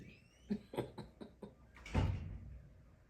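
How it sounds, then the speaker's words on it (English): A door in need of lubrication creaks and knocks through a few short, rhythmic movements, then bangs shut with a heavier thud that fades, close by indoors. "Do you hear that door? It needs some WD-40."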